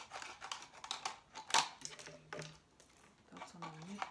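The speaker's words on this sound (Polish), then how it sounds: "Więc wyrównam sobie nożyczkami." Scissors snip and trim the edge of a plastic bottle close by, a few crisp clicks and crinkly cuts with light plastic rustling, while someone talks quietly in between.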